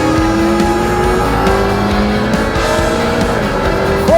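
McLaren P1 at full throttle on an open road with no speed limit, a loud sustained engine roar close by that climbs steadily in pitch, with faint tire noise underneath.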